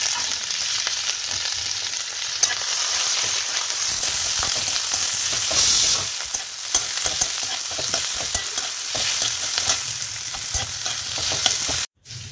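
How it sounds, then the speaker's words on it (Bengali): Onions fry in hot mustard oil in a wok, a dense, loud, continuous sizzle with crackling and stirring scrapes up close, running steadily without any voices and cutting off briefly near the end. "কড়া বসিয়ে সর্ষের তেল গরম করে নিয়েছি, পেঁয়াজগুলো দিয়ে দিলাম, এগুলোকে একটু ভাজবো।"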